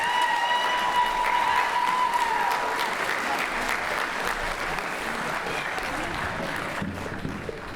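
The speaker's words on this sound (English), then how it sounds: "One more round of applause for the great chamber kids as they leave the stage" Sustained audience applause for chamber orchestra students leaving the stage at a school fall band and orchestra concert, a dense, steady roar of many hands filling the hall, loud and continuous before easing slightly toward the end.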